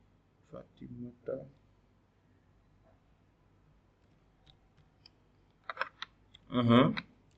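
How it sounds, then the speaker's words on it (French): Someone types an email address on a computer keyboard, producing a few short clusters of close key clicks separated by quiet gaps, with a louder burst near the end. "Par exemple, j'écris un mail Fatimata."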